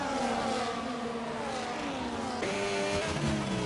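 Several F1 race cars in a video game blast past on the Austria circuit, a loud continuous engine whine with pitch climbing and shifting through gears, one car overtaking around the midpoint.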